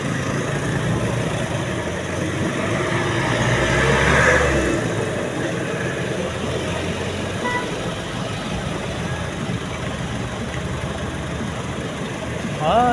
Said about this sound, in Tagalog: Medyo traffic pa dito